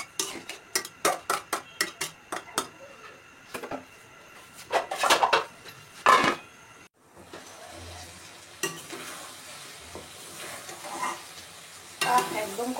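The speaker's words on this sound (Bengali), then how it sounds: "এখন এটা ভালোভাবে কষিয়ে নিতে হবে।" Dried fish curry being stir-fried in a pan, the spatula scraping and clinking against the metal in quick, rhythmic strokes, then giving way to a steady close sizzle with a few more clanks near the end.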